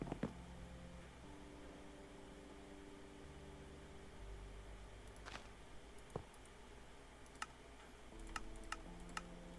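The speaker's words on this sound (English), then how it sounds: "That way I can just type the whole thing in." Typing on a computer keyboard during a Minecraft session, faint scattered key clicks in short bursts over a steady background hum, with no voices.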